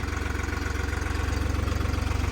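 Steady close rumble of a New Holland 3630 SE 4x4 tractor engine in first gear, a loud even diesel throb with a fast regular pulse and no break.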